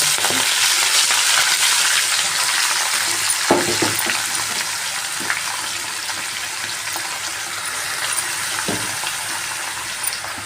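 Finely chopped, washed spinach sizzles and fries in a pan with a steady, dense hiss, broken by a few stirring scrapes, with no talking over it.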